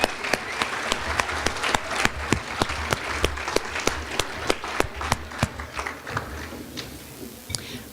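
At the 2018 NMRA Hospitality Industry Awards Banquet, the room applauds the management and culinary teams from Taos. The steady clapping of a moderate crowd is fairly close and thins out toward the end.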